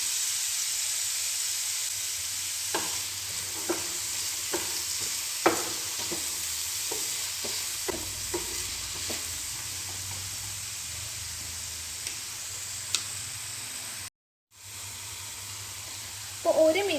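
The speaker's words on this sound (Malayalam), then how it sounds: "1 മിനിറ്റോളം നമ്മളിത് കിഴങ്ങ് ഇങ്ങനെ വഴറ്റിയെടുക്കുക" Diced potato with salt stir-frying in hot oil: a steady soft sizzle and hiss underneath, with intermittent scraping stirs and clinks of the spoon against the pan.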